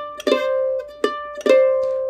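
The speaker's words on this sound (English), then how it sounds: "A rake or a sweep is kind of a less common embellishment on the mandolin" A mandolin pick rakes across the strings on upstrokes, giving a few quick bright strummed attacks that ring out between them, close and clear with no voice.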